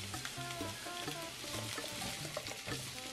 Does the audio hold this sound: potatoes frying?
yes